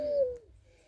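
Capuchine pigeon in a breeding loft in Jamaica, giving one short, close coo that falls away, followed by quiet background.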